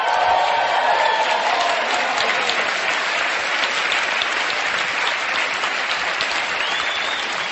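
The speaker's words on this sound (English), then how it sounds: "Give a round of applause." An audience breaks into sustained applause, dense clapping holding loud and steady throughout with a faint crowd murmur beneath.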